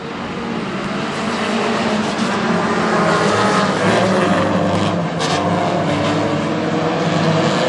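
Hornet class race cars pulling away on a restart at Granite City Speedway, a dense, loud pack of engines roaring and rising in pitch as they accelerate together, with no talk.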